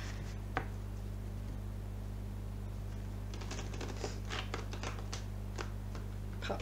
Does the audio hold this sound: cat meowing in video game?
no